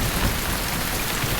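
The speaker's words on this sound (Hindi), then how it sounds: "मैंने कहा था ना कि बारिश होगी" Steady rain pours down in a scene from a Hindi-dubbed South Indian action film, a dense and even hiss with heavy low rumble throughout and no voices.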